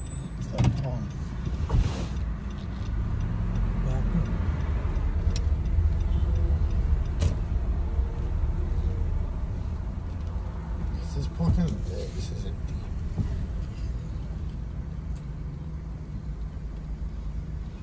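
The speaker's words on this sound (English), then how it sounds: "Gotta watch out for these cars." Cars pass by on a road outdoors, a steady broad traffic rumble that swells and fades throughout, with a person talking over it.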